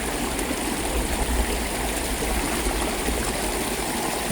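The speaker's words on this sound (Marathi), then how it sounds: "या धबधब्याचं पाणी" Waterfall water pouring steadily at Tamhini Ghat near Pune, a dense continuous rushing roar that stays close and loud throughout, with no voices.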